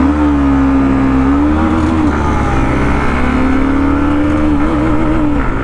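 Hero Xtreme 125R motorcycle accelerating hard in a drag race, a loud continuous engine whine rising in pitch through the gears, with a brief dip around a missed gear before climbing again.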